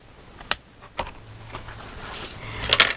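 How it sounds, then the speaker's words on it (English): Scissors cut through paper while a mini album is being made. A few sharp, crisp snips and clicks sit close to the listener, separated by quiet rustling gaps. "You could start with some larger holes that you can stick your scissor in and just cut from one side to the other."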